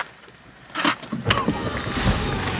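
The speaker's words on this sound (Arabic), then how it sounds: "دور الموتور عشان انا عارفك بتحب تدور الموتور" A car engine is started, close by, in Egypt: a brief cranking burst leads into a steady running rumble that continues to the end, with faint background noise before it.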